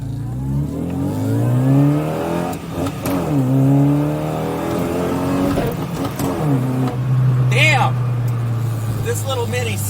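Modified Classic Mini Cooper engine revs up and down in repeated rising sweeps, close and loud, with a steady idle between bursts and a person talking over it.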